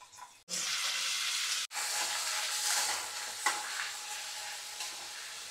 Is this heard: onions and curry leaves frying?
yes